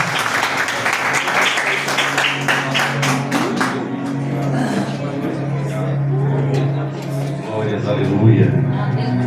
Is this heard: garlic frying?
no